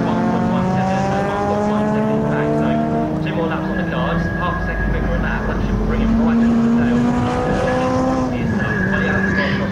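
Classic Thunder and BOSS race cars, including saloons such as a Ford Sierra Cosworth, roar around Snetterton circuit. Loud, continuous engine whine rises and falls as cars pass, with a commentator speaking over it.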